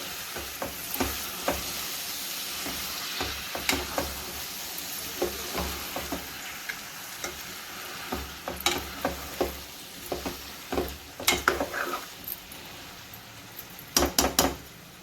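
Tomatoes fry and soften in a pan for a gongura curry, a steady soft sizzle broken by frequent clacks and scrapes of a spoon stirring against the pan, with a busy cluster of knocks near the end.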